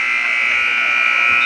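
A buzzer sounds at a high school boys' basketball game, a loud, steady electronic tone that holds unbroken for about a second and a half.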